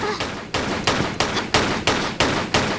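Gunfire from the video game Tomb Raider IV rings out as a steady run of about eight loud, evenly spaced shots, each with a sharp attack and a short decaying tail, with no voices over it.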